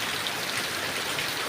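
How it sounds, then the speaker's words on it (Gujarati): Heavy rain pours steadily over village farm fields, a dense, even hiss of downpour close by with no pauses and no voices. "વરસાદ પણ મન મૂકીને વરસે છે મિત્રો"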